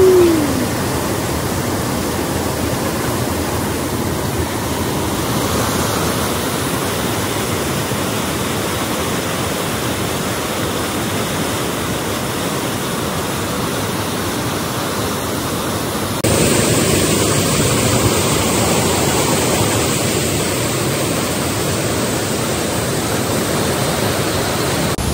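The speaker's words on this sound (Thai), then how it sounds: "ที่เขาบอกว่าเป็นน้ำตกที่ทรงพลังที่สุดในยุโรปก็เป็นเพราะแบบนี้ล่ะค่ะ" The Rheinfall in Switzerland, Europe's most powerful waterfall, roars as a steady, loud, full-bodied wash of crashing water that never lets up, heard close and alone.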